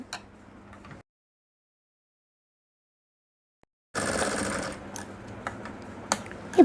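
A sewing machine stitches folded fabric. A brief rattle is followed by three seconds of silence, then a dense, close run of fast mechanical ticking and clatter with a few sharper clicks.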